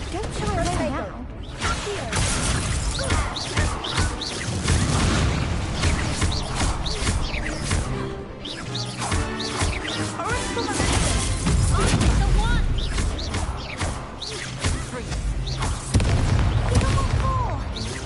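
Confringo blasting spell explosions in Hogwarts Legacy, a dense stream of booms and crashing impacts amid loud game music and combat, with voices talking over the mix throughout.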